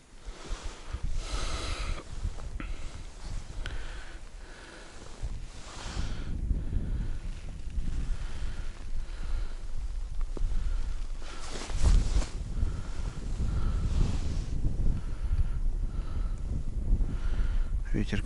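Rough low-frequency wind buffeting on the microphone throughout, with gusty rumbling, under occasional bits of speech, outdoors while ice fishing for bream.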